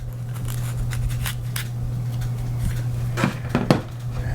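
A Purple Moruga off pheno chili pod being cut open, heard as a few crisp snips and slicing clicks over a low steady hum, close and sparse, clustered toward the end.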